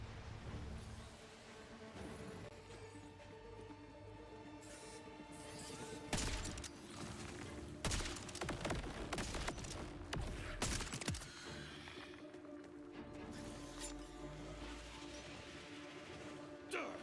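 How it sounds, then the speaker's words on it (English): Video game fireworks bursting in a rapid crackling volley, with sharp cracks and pops clustered in the middle over a low background rumble. "Here come the fireworks!"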